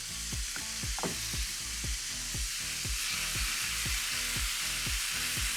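Meat frying in a little oil in a large nonstick or well-seasoned cast iron skillet, a steady loud sizzle with repeated scraping stirs in a regular rhythm.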